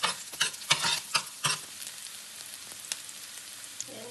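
Onions frying in a pan for a Filipino home dish, stirred in a few sharp bursts of scraping and sizzle over the first second and a half, then settling to a quieter crackle with occasional pops.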